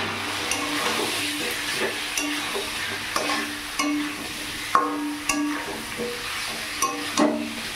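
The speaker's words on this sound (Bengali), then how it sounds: "এখানে আমি ওল আলু চিংড়ি মাছ একবারেই রেখেছি, এগুলো দিয়ে একটু কষিয়ে নেব" Elephant foot yam, potato and prawns fry in spiced oil in a pan, a continuous close sizzle broken by repeated scraping and clacking strokes of a stirring spoon.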